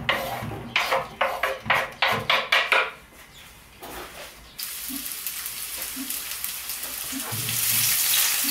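Tropea onion is stirred in extra virgin olive oil in a pan, with several sharp clattering knocks of utensil on pan first, then a steady hiss of frying that swells toward the end.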